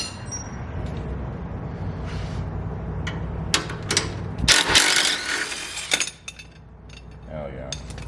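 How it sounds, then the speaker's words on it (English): Ratchet wrench working bolts off the floorboard of a Harley-Davidson Road Glide Special motorcycle, with rapid clicking bursts, metallic clinks and rattles up close, and some talk in the background. "All we got to do is just take off these little bolts that are holding it in place"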